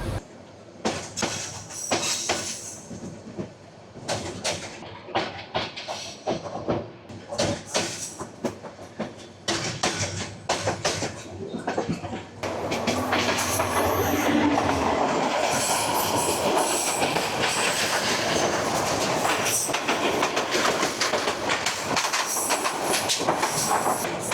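Mahanagar Provati passenger train pulling out of Airport railway station in Dhaka, wheels clicking over rail joints with occasional squeals, the rumble swelling louder and steadier in the second half.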